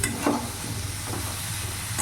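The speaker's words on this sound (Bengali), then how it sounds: "এবার ভালো করে একসাথে মশলার সাথে মিশিয়ে নেব।" Eggplant pieces are stirred into spices frying in a pan, making a steady close sizzle with soft scraping strokes and no voices.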